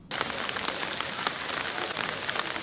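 Heavy pouring rain falls in Kinshasa where Scrabble players gather, a dense, steady roar of drops that starts abruptly and continues alone without talk.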